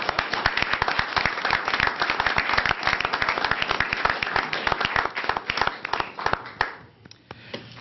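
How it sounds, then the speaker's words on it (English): A room of attendees at a Willmar city council meeting claps in a sustained round of applause, many hands at once, thinning to a few scattered claps and then quiet near the end. "Let's give them a big round of applause."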